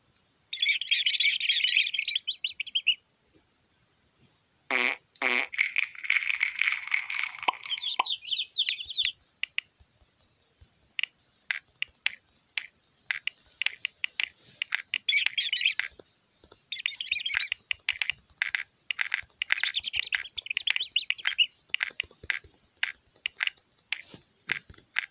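Hungry chicks in a Peppa Pig game chirp in rapid bursts of high, tweeting calls, broken by pecking and munching clicks as they feed, bright and close with short silent gaps.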